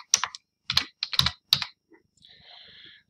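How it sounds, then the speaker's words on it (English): Quick bursts of typing on a computer keyboard while entering text into a spreadsheet, four short clusters of keystrokes followed by a softer, quieter patch of tapping, close and clear with no talking. "So I'm just going to type in"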